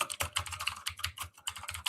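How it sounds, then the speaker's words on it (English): Quick, steady typing on a computer keyboard, with dense clicking keystrokes in an uneven rhythm and a couple of brief pauses, close and fairly quiet, no voices. "I'm typing it into the chat."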